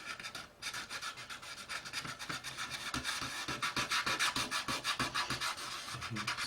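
A tool rubs and scrapes over a surface to give it a lightly chipped effect, fast rhythmic rasping strokes that grow louder and more regular, close up with no talking.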